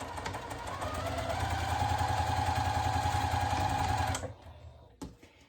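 A sewing machine stitching mini quilt pieces runs in a steady fast whirring hum for about four seconds, then stops, followed by a small click.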